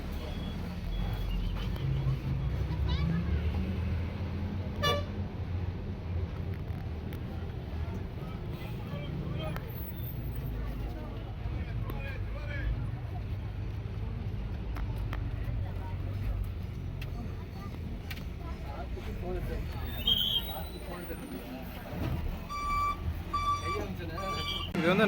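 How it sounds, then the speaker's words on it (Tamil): Bus stand ambience at Nagapattinam, with a running engine rumble, passing traffic and occasional short beeps and horn-like tones, while someone talks over the scene throughout. "இதான் நாகப்பட்டினம் பஸ் ஸ்டாண்டு."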